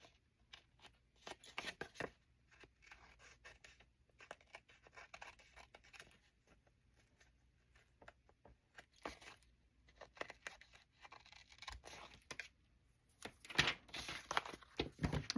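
Scissors trim a paper card tag up close, with crisp irregular snips and rustling paper in bursts, growing busier toward the end.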